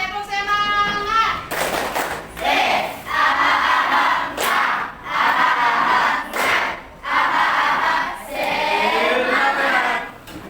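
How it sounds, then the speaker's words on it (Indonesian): A primary school class chants a rhythmic spirit clap together in a classroom, with loud bursts of group clapping and shouted syllables repeating in a steady pattern. A single voice leads at the start. "kita tepuk semangat dulu ya. Tepuk semangat."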